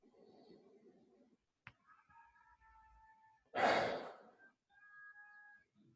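A single deep inhale during a counted breathwork exercise, a strong rushing breath that swells and fades near the middle, set among quiet breathy sounds and faint tones.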